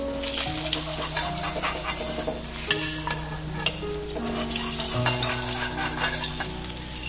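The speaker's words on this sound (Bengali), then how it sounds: "ঢাকা দিয়ে মাছগুলোকে ভেজে নিয়েছি।" Rohu fish pieces fry in hot oil, a continuous close sizzle and crackle, broken by scraping stirs and clinks of a utensil against the pan.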